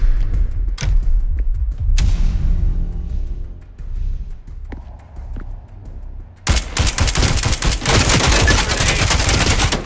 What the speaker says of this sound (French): Ah mais merde, c'est une arme auto.